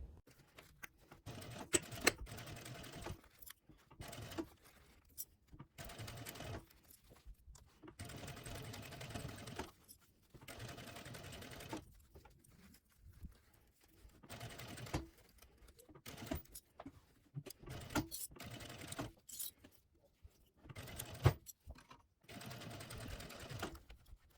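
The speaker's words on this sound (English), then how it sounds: "you go to the sewing machine and you are gonna go around with 3/8 of an inch seam allowance" A sewing machine stitching a 3/8-inch seam on a sling bag runs in repeated bursts of rapid mechanical stitching, stopping and starting throughout with brief quiet pauses between runs.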